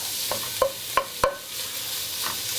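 Tiger prawns flash-fry in a hot pan for Thai fish soup, with a steady sizzle under a few sharp clinks of stirring that cluster near the start of the clip, close by and with no voices.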